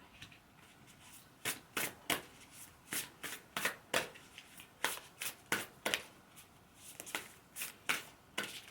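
Tarot cards being shuffled by hand for a reading, a series of crisp riffling bursts arriving in uneven clusters, close and fairly quiet, with no talk.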